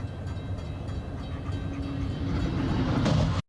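A Brightline train rolls past a level crossing in Florida. The loud, steady rumble and rail noise build toward the end and then cut off abruptly, with no voices.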